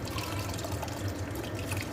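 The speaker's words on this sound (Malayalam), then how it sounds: "പുളീൻ്റെ വെള്ളം ഒഴിക്കണം" Tamarind water poured into a cooking pan, a steady close splashing, trickling stream running continuously for a couple of seconds.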